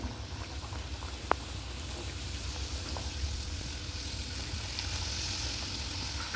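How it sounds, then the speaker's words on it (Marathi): Traditional talni modak sizzle steadily in hot oil over a low flame, a soft, even frying hiss that runs throughout with a single brief clink near the start and no talking. "इथे आपलं तेल छान गरम झालेलं आहे आपण आता मोदक सोडून घेऊया"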